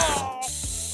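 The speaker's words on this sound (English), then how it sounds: "Let's defeat the bad viruses by spraying medicine!" Two quick, close hissing spray bursts with a short pause between them, crisp and mechanical.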